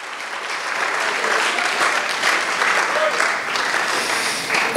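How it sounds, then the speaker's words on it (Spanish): A church congregation applauds during a sermon on the gospel, a dense, loud, sustained burst of clapping from many people, holding steady throughout. "Eso merece un aplauso, hermano."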